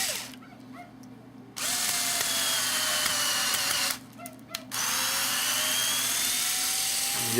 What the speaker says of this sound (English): we got those drilled and kind of self-tapped there